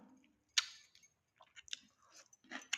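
Close, quiet chewing of pakhala, Odia fermented rice with curd, raw onion and green chili, heard as soft wet clicks and squishy mouth sounds in irregular bursts.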